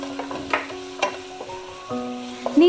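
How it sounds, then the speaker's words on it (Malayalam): Green chili, ginger and garlic paste sautés in a pan for chicken biryani, a soft sizzle broken by scrapes and clinks of a stirring utensil against the pan, close and fairly quiet with no speech. "ഇനി എല്ലാ ഇൻഗ്രീഡിയൻസും നന്നായിട്ടൊന്ന് വാടി വരുന്നത് വരെ വഴറ്റി കൊടുക്കണം"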